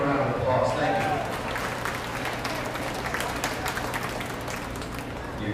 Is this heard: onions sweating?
no